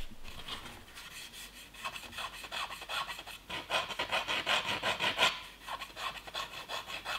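Rhythmic scratchy rasping of sandpaper rubbing back and forth against a 3D-printed plastic figure, steady and close with no voices.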